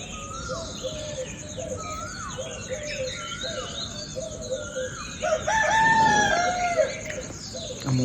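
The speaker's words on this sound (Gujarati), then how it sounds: "ઊંઘવાનો ટાઈમ થયો ને એટલે કુકડો બોલે છે" A rooster crows in a rural yard at dusk, with other fowl clucking and birds calling around it, and a louder, nearer crow near the end over steady outdoor ambience.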